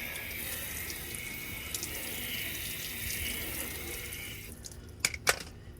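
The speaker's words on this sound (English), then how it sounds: "we'll give it a quick rinse with water" Steady running water pours from a tap with a constant hiss, rinsing a car door after rust removal, then cuts off, leaving a few splashes and drips at the end.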